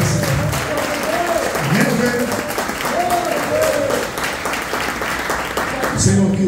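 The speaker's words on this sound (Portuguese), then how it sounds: "Vamos aplaudir o Senhor" A church congregation applauding during a worship service, sustained clapping from a crowd filling the room while a voice sings or speaks over it.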